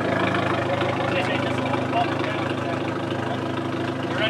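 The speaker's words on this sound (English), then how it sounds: "Hey, rev it up again." A heavily modified Dodge SRT-4 with a full 3-inch turbo-back exhaust idles with a low, rough rumble, close and steady, while people talk nearby.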